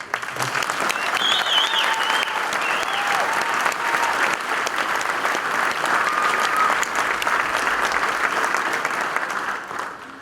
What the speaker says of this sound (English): So I'd just like you to give yourself a round of applause.